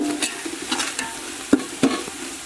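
Onions and spice powder frying in oil for biryani give a soft steady sizzle, broken by occasional sharp scrapes and taps of a spoon stirring the pan, heard up close.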